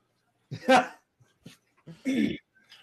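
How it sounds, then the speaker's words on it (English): A dog gives a few short whimpering whines and yips, close and fairly quiet, in brief bursts separated by silence. "All I got is the dog."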